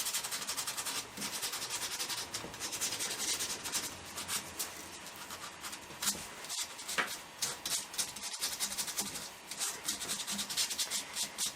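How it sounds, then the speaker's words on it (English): Sandpaper rubs steadily over carved cottonwood bark, a close, continuous rasping scrape in repeated strokes that briefly pause and resume. "Then I'll take that and use my sandpaper again and just kind of blend it together a little better"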